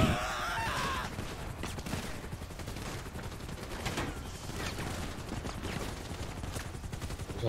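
Gunfire in GTA 5 rattles as dense, rapid machine-gun-like bursts with a mechanical clatter, loud and continuous for the whole stretch, with no voices over it.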